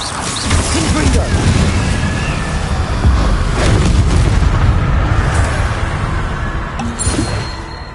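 Confringo fire-bolt spell exploding in the video game Hogwarts Legacy during combat against Inferi, a loud dense rumbling blast with crackling bursts layered over continuous battle noise.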